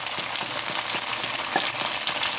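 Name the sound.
cooked lamb sizzling as put back into frying pan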